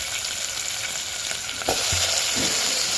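Onions fry in hot oil with a dense, steady sizzle that stays close and even, and a brief stir or clink sounds partway through.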